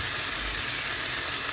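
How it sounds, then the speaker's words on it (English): Steady, faint sizzle of meat browning in a pan for Nigerian meat pie filling, a continuous hiss with no voices. "You allow it to keep the frying until it turns completely brown like this."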